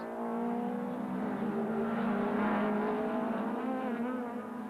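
Touring cars, an Opel Astra and a BMW, race side by side at Kyalami in 1994, their engines screaming together in a loud, sustained, rising-and-falling drone through a fast section.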